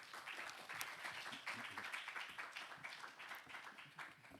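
Congregation at a church worship service applauding steadily for several seconds, a dense, continuous patter of many hands clapping together at moderate loudness.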